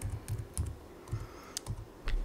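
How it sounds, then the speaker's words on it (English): Quick, irregular clicks of a computer keyboard as someone types a command into a Linux terminal while installing R Commander on Ubuntu, close and fairly soft, with no speech. "I'm going to go ahead and start typing this."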